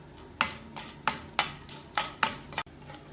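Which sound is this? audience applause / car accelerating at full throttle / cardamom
cardamom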